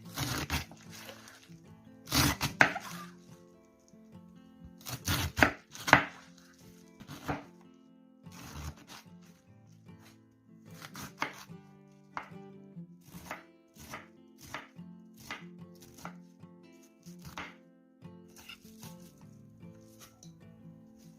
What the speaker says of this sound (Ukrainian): Накришимо капусту. Я її не тоненько кришу